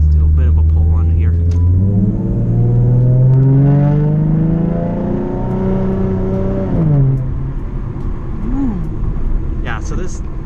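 A 2012 Ford Mustang with the 3.7-litre Cyclone V6 pulls hard from inside the cabin, the engine note climbing through rising revs with a shift, then easing off to a lower hum as the car settles.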